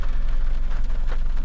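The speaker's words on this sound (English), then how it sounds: "It really started coming down." Heavy rain pouring down outdoors at a fishing spot, a dense, loud, steady hiss of drops hitting surfaces with no pauses and no voices.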